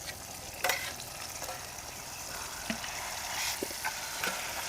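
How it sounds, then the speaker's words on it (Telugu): A paste of onion, garlic and chili fries in oil with a steady, close sizzle, broken by several sharp scrapes and clicks of stirring. "ఇది ఇట్లా నూనెలో వేపుకోవాలి మంచిగా"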